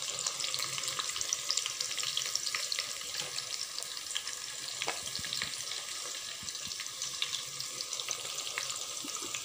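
Onions sautéing in a pan for Dindigul chicken biryani, a steady close sizzle and crackle of frying with occasional scrapes of stirring, continuous throughout with no talk.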